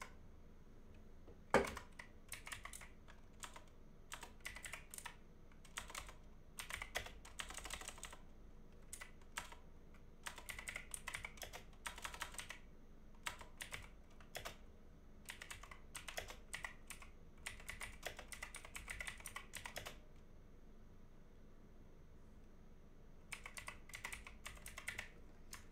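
Keys clatter on a computer keyboard in uneven bursts of quick, close taps with short pauses between runs, steady and fairly quiet throughout.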